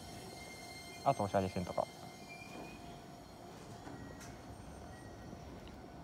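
A six-car Keisei local train at Keisei-Nishifuna station gives a steady, moderate rumble that runs through the whole stretch, with a short burst of nearby talk over it early on.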